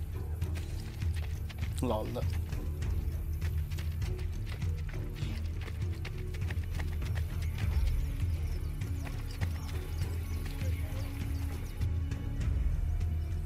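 Rhythmic clip-clop of galloping hooves in Assassin's Creed Brotherhood runs steadily under game music and ambient noise, with a brief voice and a horse whinny near the start.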